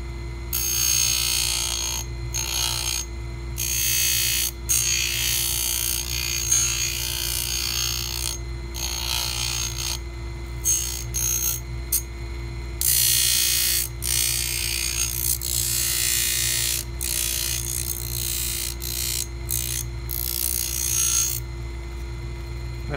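A dental lathe's polishing wheel grinds an acrylic partial denture: a constant motor hum underlies irregular bursts of harsh, gritty abrasion that start and stop as the piece is pressed against the wheel and pulled away.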